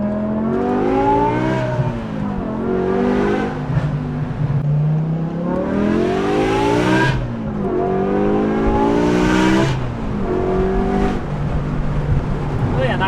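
A BMW E63 M6 fitted with Valvetronic Designs universal mufflers revs repeatedly, loud rising and falling exhaust sweeps heard close, several surging pulls in a row with a strong harmonic drone.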